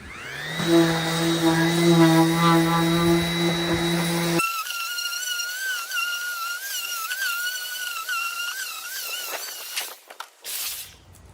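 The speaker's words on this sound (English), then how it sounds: "Now we're quickly going to just sand the edges to make sure we don't have any sharp points" A power sander smooths the freshly cut edges of the opening for a 36-inch five-burner gas cooktop. A loud, steady whine runs for about four seconds, then gives way to quieter rattling and handling noises.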